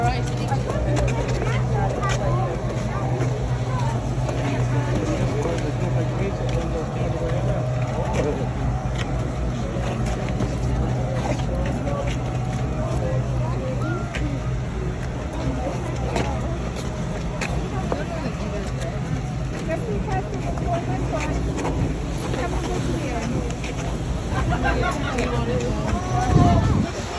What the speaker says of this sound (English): Waverley, the world-class seagoing paddle steamer